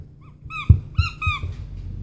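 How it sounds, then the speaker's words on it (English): A squeaker inside a soft, light natural rubber baby teether toy gives a few short, high, whistling squeaks in quick succession, close and clear against near silence. "There's a squeaker,"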